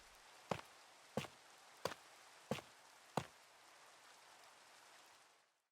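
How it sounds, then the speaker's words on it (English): Steady rain hisses on the surface in Minecraft, with five sharp, evenly spaced knocking taps cutting through the downpour before everything cuts out. "I'll be able to sleep soon and get rid of this rain."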